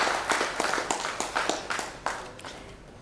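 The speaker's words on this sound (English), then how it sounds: "Can I have a round of applause as he joins us?" Audience applause at a business panel discussion in Dhaka, a moderate crowd clapping steadily with scattered sharper claps, fading toward the end, no voices.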